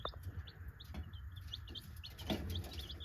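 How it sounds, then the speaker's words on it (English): Small chicks peep and chirp on a farm, with quick high repeated calls scattered throughout over a low steady background hum, no talk. "But the little chicks are doing well."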